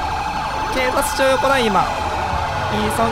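Police car sirens wail in GTA 5 during a chase, rising and falling tones layered over one another and loud against the street noise, with a voice speaking briefly.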